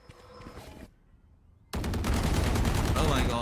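Gunfire in the video game Valorant during a South Asia Challengers esports match, with a short crack of shots, a pause, then a loud sustained burst of rapid fire.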